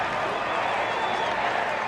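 Large crowd cheering and applauding at a Dallas versus Madison ultimate frisbee championship game, a dense continuous roar of clapping and voices at steady loudness throughout.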